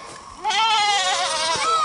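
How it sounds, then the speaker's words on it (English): Goats on a farm in the rain, bleating loudly and close by: one long wavering bleat rises after a brief quieter start and carries on, with another goat faintly audible in the background. "And the goats are screaming at me."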